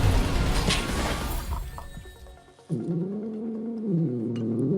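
A cat in the video game Honkai: Star Rail lets out a long wavering meow-like cry after a loud crashing burst of game effects, clear and near with no talking over it.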